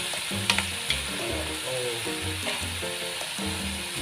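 Crab being stir-fried in a hot pan for a Thai basil stir-fry, a steady sizzle broken by scraping and clinks as the pieces are tossed, close and continuous.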